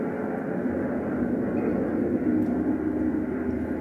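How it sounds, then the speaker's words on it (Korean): A train's sound from the Voyager Golden Record's sounds of Earth: a steady, dense low rumble with a continuous roar that holds evenly throughout, without voices. "이건 아시겠죠? 기차 소리."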